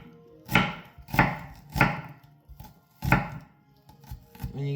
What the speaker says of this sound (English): sliced onions for your tomato soup